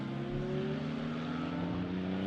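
Race cars, including a McLaren, run on a circuit during a member challenge race, producing a sustained, fairly distant engine drone with steady pitched tones that rise slightly toward the end, with no talking.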